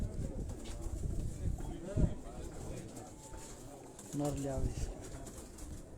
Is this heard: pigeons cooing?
yes